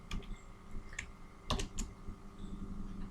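Quiet, close keystrokes on a computer keyboard while typing a formula into Excel, a light, irregular patter of clicks with a couple of firmer taps and no talk.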